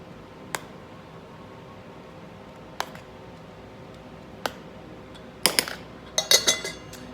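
Spoon stirring rehydrating freeze-dried eggs in a small camp pot over an alcohol stove: a few sparse metallic taps, then a quick burst of clinks and scrapes near the end, close and fairly quiet.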